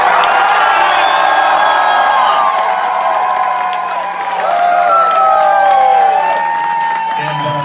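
A large concert crowd at a band reunion show cheers, whoops and applauds loudly and continuously, with high shouts rising over the roar.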